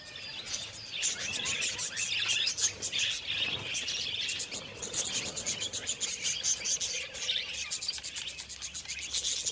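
Budgerigars chirp along a riverbank in Australia's Central Ranges, a busy overlapping chorus of rapid high tweets and chatter going on throughout at moderate distance, with insect-like trills underneath.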